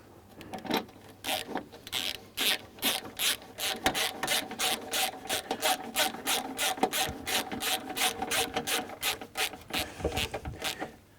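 A bolt securing a wheel-area panel is tightened with a ratchet, producing a long run of quick, evenly spaced rasping clicks, close and moderately loud, with brief pauses and no talk.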